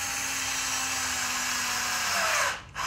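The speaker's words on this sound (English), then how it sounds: "it drives the screw and buries it right in there" A power drill drives a screw into soft pallet wood for a picket gate, a steady close whine holding for over two seconds before it winds down, stops briefly and gives a short final burst.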